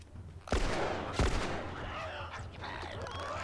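Gunfire in The Last of Us, two sharp close shots a moment apart followed by a lingering echoing tail and faint rustling.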